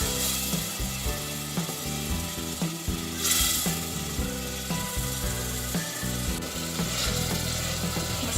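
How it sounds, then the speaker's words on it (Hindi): Masala with tomato paste fries in a pan, a steady close sizzle broken by frequent scraping and clacking as a spoon stirs it. "और मसाला भून लेंगे"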